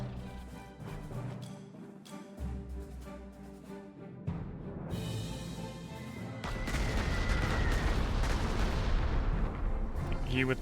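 Bombing and artillery fire in the Panzer Corps 2 strategy game rumble over a layered battle soundscape, booming detonations building into a dense, loud continuous roar toward the end, with some talking mixed beneath.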